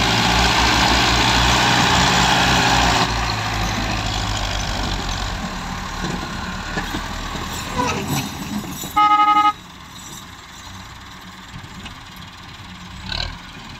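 A Belarus tractor pushing a Massey Ferguson 375 hauling a heavily loaded trolley on muddy ground: loud engine drone and idling rumble that eases off, a brief horn toot, scattered knocks, no clear speech.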